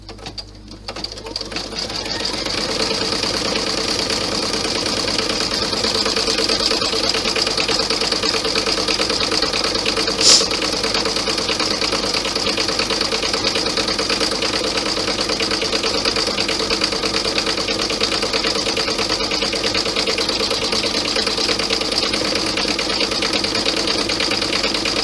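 A sewing machine runs steadily while stitching the seam parts of a vinyl clutch, its whirring motor hum continuous and fairly loud from start to finish, with one brief click near the middle.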